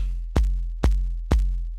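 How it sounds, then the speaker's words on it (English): Deep, punchy kick drum programmed on an Elektron Digitakt sampler, struck three times at a steady pace, each hit a sharp thump with a booming low tail, heard alone. "So that's our kick so far."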